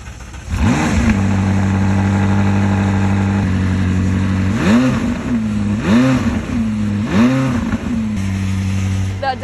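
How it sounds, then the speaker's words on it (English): A McLaren 570S engine and exhaust blip through three sharp revs after a steady idle, each rev swelling loudly and dropping back, close and clear with no talk over it. "That definitely sounds like a race car. That exhaust is super nice."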